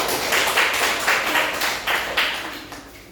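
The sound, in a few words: classroom applause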